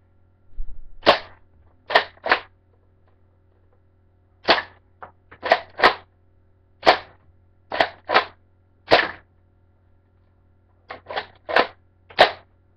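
A toy dart gun with a cocking trigger dry fires, with no dart loaded, giving about fourteen sharp, close plastic snaps in quick pairs and triplets separated by short pauses in a quiet room.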